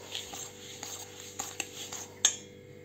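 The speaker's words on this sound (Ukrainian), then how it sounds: "Я розмішую за допомогою виделки." A fork whisking egg yolks with a glass of sugar in a bowl, soft scraping and light clinks in an irregular rhythm, quiet and close, ending on one sharper tap against the bowl.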